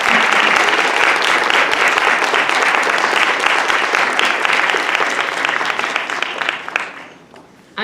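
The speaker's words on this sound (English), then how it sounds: "perhaps those graduating today would like to express their appreciation to their loved ones now with a round of applause" Graduates and guests at the University of New Mexico English Department convocation in 2023 clap in a loud, dense round of applause that thins out and fades near the end.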